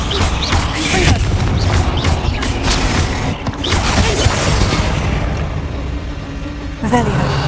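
In Hogwarts Legacy, a fiery Confringo spell blast erupts among other spell impacts, loud booming bursts with crackling debris and mechanical clatter that rise and fall in quick succession.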